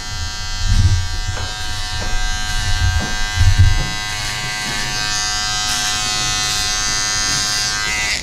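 Electric hair clippers cutting a taper fade, a loud steady close-up buzz running throughout, with a few brief thumps and shifts in the first seconds as the clippers touch the head.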